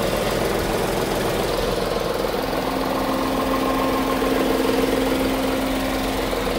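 A Tata Tiago XZ top-end car engine idles steadily at close range, a continuous even hum with a faint mechanical knock running through it and no voices.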